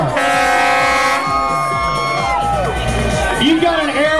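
An outdoor crowd at a bikini contest in Sarasota cheers and shouts loudly while air horns blare in long held blasts over the noise, then the cheering continues with scattered whoops.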